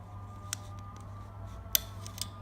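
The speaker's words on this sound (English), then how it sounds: "Sometimes when you apply the band to the loom, it makes a weird sound." A few faint, sharp elastic snaps and ticks as rubber loom bands are applied to a bracelet loom, over a steady low hum, with one brighter click near the end.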